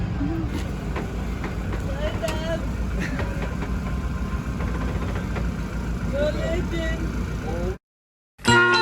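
A car engine drones steadily from inside the vehicle on the road back to St Ives, a continuous low rumble with faint passing sounds before a sudden cut to silence near the end.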